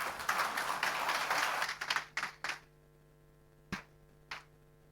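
Audience applause at a business presentation honoring the president of the state railway company, a dense burst of clapping for about two seconds that thins out to a few last isolated claps.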